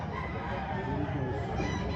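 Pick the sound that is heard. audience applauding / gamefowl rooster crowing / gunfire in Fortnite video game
gamefowl rooster crowing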